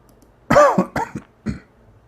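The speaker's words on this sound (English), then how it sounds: "Sorry for coughing." A man coughs in a quick burst of three to four harsh, close coughs, then falls silent.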